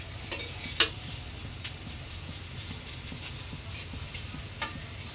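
Rice being stir-fried in a pan as bhat bhaji, with steady low frying noise and a few sharp clinks of a spatula or utensil against the pan near the start and end.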